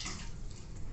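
A spoon being rinsed in a basin of water while washing dishes at a rural home, with steady close splashing and sloshing water throughout and no voices.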